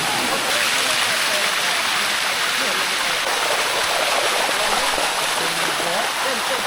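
Loud, steady roar of a busy main waterfall in Thailand filling the whole scene, constant rushing water with no pauses, with faint sounds of a crowd blended into the noise.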